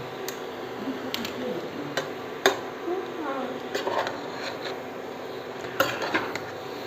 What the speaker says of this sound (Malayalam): ഇറച്ചിയിട്ട് ഒന്ന് ഇളക്കി കൊടുക്കണം നന്നായിട്ട്